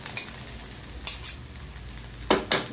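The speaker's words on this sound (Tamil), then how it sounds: "இப்படி தான் கிளறணும்." Food being stirred in a cooking pan with salt added, soft scraping strokes of a spoon against the pan at irregular intervals over a faint background hiss.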